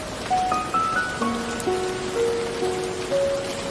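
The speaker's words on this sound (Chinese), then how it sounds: "茶山下起了大雨" Heavy rain falls on tea-covered hills, a steady wash of drops with no talking, and faint tonal sounds drift through the background.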